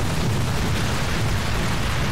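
A rocket explodes in a GTA video game, a loud continuous roaring blast with dense low rumble that fills the whole moment, with no talk.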